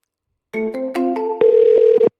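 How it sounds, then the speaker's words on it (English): Electronic phone tones sound alone and clearly: a short sequence of stepped dialing beeps, then a steady buzzing ring tone as an outgoing call to an AI receptionist line connects. "So let's go high level to make the phone call."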